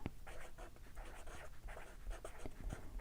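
Soft scratching strokes of a Crayola Clicks marker writing on paper, several short close-up squeaky scribbles in quiet surroundings without talking.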